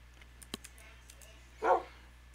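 A dog in modded Minecraft gives one short bark near the end, standing out against quiet game ambience and a few faint clicks, with no talking.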